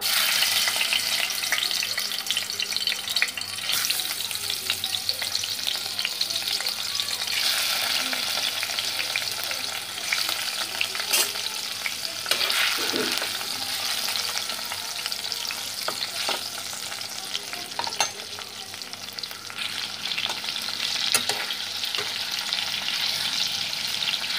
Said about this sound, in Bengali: মাছগুলোকে আমি ভেজে নেব আর মাছ খুব ফাটে বলে আমি এটাকে ঢাকা দিয়ে ভাজবো